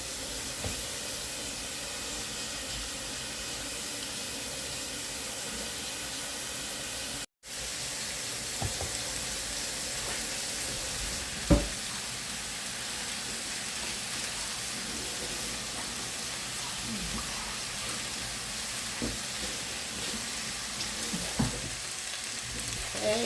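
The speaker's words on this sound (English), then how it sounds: "Hey, bacon is on." Bacon fries in a pan with a steady, dense sizzle and hiss, broken once by a brief dropout and marked by an occasional pop or clatter, with no voices.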